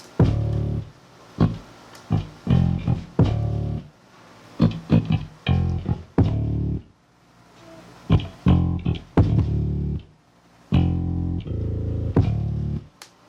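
Hip-hop beat with a live-sounding Trillian bass line and punchy kick drums filling the low end, playing in repeated rhythmic phrases with short gaps, loud and upfront with no talking.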